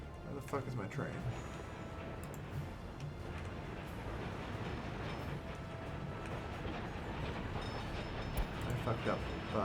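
Train running on rails in the video game Workers and Resources, a continuous rumbling roll with scattered clicks and clacks, steady and fairly loud throughout.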